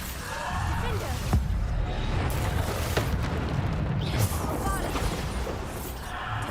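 Bombarda spell explosions in Hogwarts Legacy during a fight with skeletons, repeated smashing blasts and crashes in dense, loud combat noise, with a player's voice over them.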